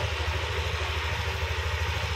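Yamaha NMAX Version 2 scooter engine idling on its center stand, a steady low pulsing hum, close and unchanging, with no talking.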